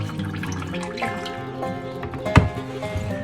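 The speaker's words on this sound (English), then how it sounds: "you can see the tallow and the water running out there into the bowl" Rendered bison tallow and water drain into a bowl, a close liquid trickle with small drips and a sharp clink or splash near the end, no talk.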